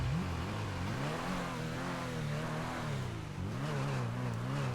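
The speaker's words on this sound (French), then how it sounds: "juste le bruit de la voiture, il m'énerve" Car engine droning steadily in the background of a parkour racing game, its pitch rising and falling as it revs, continuous and moderately loud with no talk.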